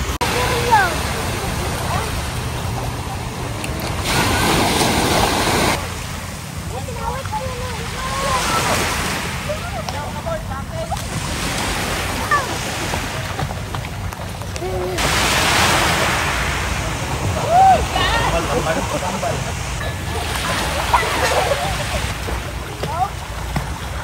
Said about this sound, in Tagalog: Lang alon.